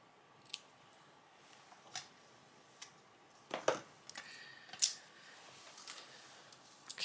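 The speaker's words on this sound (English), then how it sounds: "I'm just going to trim this off." Card paper trimmed with a cutting tool, a handful of faint crisp snips and clicks spaced irregularly over a quiet background, close and without talk.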